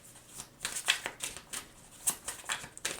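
Tarot cards riffle and slide in repeated quick bursts of papery shuffling, close and fairly soft, with short pauses between the bursts.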